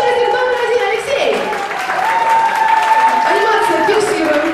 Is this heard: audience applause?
yes